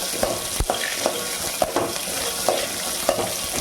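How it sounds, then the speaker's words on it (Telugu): Peanuts, green chilies and curry leaves sizzle in hot oil in a pan, with a steady hiss broken by regular scraping strokes of a stirring spoon, close up and with no talk. "ఇట్లా మంచిగా పల్లీలు వేగే వరకు, మిర్చి, పల్లీలు, కరివేపాకు వేగే వరకు వేపుకోవాలి."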